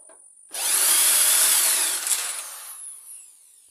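An electric drill unscrewing a screw, a short loud burst of high whirring that starts abruptly and then fades, close by, with no talk.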